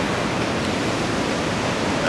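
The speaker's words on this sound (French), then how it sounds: "des vagues qui cassent loin au large" Large ocean surf breaking far offshore at Anglet in heavy swell, a steady, loud broadband roar of crashing waves with no pauses and no voices.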